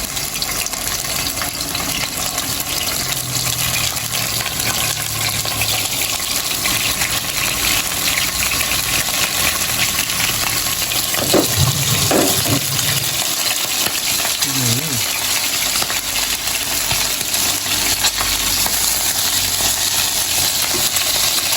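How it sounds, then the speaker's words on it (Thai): Phayao-style fermented fish (pla som) fries in a small amount of oil, giving a loud, steady sizzle and crackle that runs throughout, with a few spitting pops in the middle. "ลองทอดกันดูครับ ปลาส้มของเรานี่ครับแข็งแล้วใส่เข้าไปเลย"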